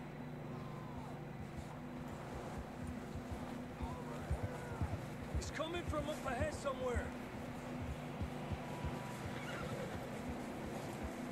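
Horses in the Western video game Red Dead Redemption II, with hooves and a brief whinny in the middle over a steady low rumble, while voices talk throughout.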